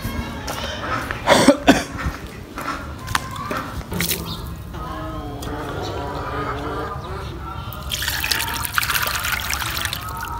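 Water poured into a drinker for chickens, a trickling, dribbling flow heard close by in bursts over several seconds, with scattered clatter and handling noise and a brighter splash near the end; no speech.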